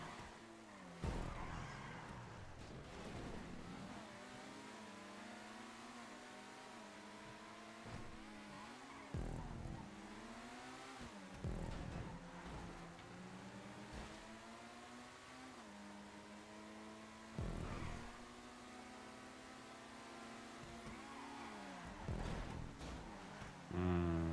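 Race cars from a racing video game lapping a wet track in the rain, engines rising and falling in pitch through repeated gear shifts and revving passes, loud and continuous across the whole stretch.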